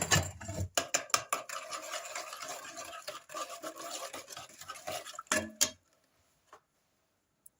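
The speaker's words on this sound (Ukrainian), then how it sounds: "Ну і відправляю нашу ось цю дріжджову масу. Все гарненько розмішую." Yeast dough mixture being stirred by hand in a bowl for poppy seed buns: a run of busy scraping, sloshing strokes for about six seconds, close and fairly loud, then stopping with a couple of faint knocks after.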